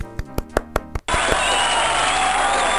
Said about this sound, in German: Begrüßen Sie ihn mit einem herzlichen Applaus.